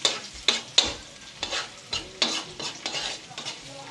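Sautéing in cooking oil in a pan, with repeated stirring scrapes and bursts of sizzle in an irregular rhythm, close and clear, with no talking over it.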